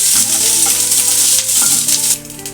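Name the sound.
ginger sizzling as it fries in a pan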